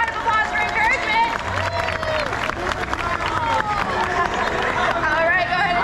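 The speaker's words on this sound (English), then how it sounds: "So can we give a big old round of applause for encouragement?" A Sea World show crowd claps and cheers for encouragement amid a busy hubbub of voices and excited shouts, applause steady but mixed under chatter.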